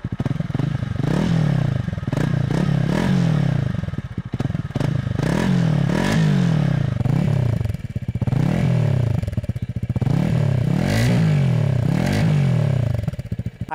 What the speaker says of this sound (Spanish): Vení, dale, vamos a arrancarla.